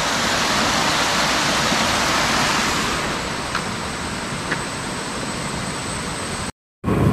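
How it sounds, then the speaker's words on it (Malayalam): A forest waterfall near Ponmudi hill station, its water pouring out of the woods in a loud, continuous broadband rush heard close up, with no talking, ending in a brief cut to silence. "ഒരു വാട്ടർഫോൾസ് കാണിച്ചു തരാം ഞാൻ വെള്ളം ഒഴുകി വരുന്ന അറിയാം"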